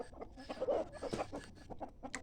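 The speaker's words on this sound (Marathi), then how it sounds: "आता ह्या कोंबड्या सोडायच्या आहेत आपण." Hens on a farm clucking steadily in a run of short, close calls, about to be let out of their coop, with no talking over them.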